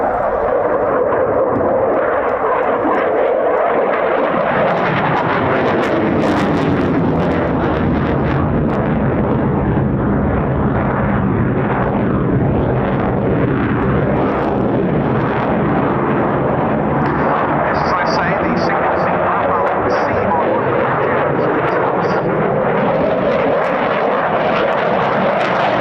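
A Rafale fighter jet flies at the RAF Cosford Air Show, making a loud, sustained jet roar that swells and shifts in pitch as it passes, filling the whole stretch without a break.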